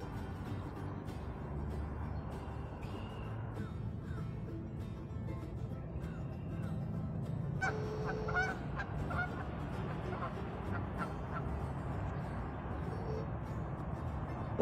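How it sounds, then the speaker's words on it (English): Canada geese at Beaver Fork Lake in Conway, Arkansas honk in short, scattered calls, faint and distant over a steady outdoor rumble, with a brief cluster of honks in the middle. "There's the Canada geese"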